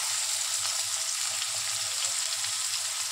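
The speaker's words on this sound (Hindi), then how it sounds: "अब उसी तेल में मैं डाल दूंगी इसके अंदर 1 टीस्पून जीरा। अब मैं डाल दूंगी इसके अंदर कटे हुए प्याज" Cumin seeds and chopped onions fry in hot oil, giving a steady, close sizzle with a dense, even crackle throughout.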